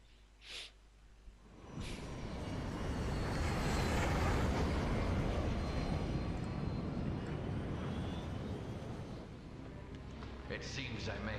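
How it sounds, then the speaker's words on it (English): A fast airplane in the game Resident Evil 5 roars past in a loud sustained rushing swell lasting several seconds, preceded by a brief breath or voice sound. "That's a quick plane."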